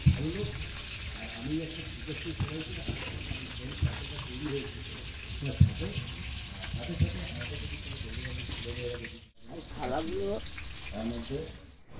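Whitish water from rinsed yogurt poured into sizzling cooked-down spices, a continuous splashing stream over frying crackle with a brief pause near the end, while someone speaks throughout.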